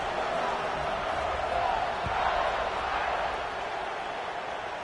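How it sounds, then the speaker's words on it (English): A large football stadium crowd at a USC versus Notre Dame game keeps up a steady, loud, even roar, with a commentator talking over it. "this crowd is buzzing after that last score"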